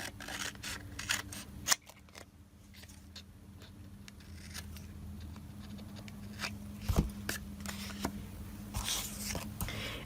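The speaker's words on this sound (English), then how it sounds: "I'm going to cut around this tag" Scissors cutting around a paper tag for a journal, with repeated crisp snips and rustling paper close up, the cuts coming in irregular bursts.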